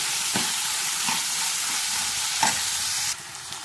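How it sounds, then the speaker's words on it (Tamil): Tomatoes sizzle in hot oil while being stirred in a pan for chicken kuzhambu, a loud steady hiss with a few scraping stirs, dropping slightly near the end. "தக்காளியை போட்டு நல்லா ஒரு கிண்டுவோம்."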